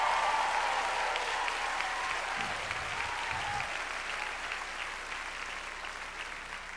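A church congregation claps in praise during a sermon, a broad, even wash of applause that holds steady and slowly fades, with low murmurs and faint voices underneath.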